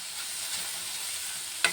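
Carrot and grated coconut fry in ghee with a steady soft sizzle in a pan, ending in a sharp brief stir or scrape.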